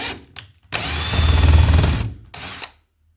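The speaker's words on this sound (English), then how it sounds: "I'll just drill a little hole here" A power drill boring a small pilot hole into wood while a wall outlet is being fitted: a short tap, then one steady high whine of the bit cutting for about a second and a half, a brief restart, and silence.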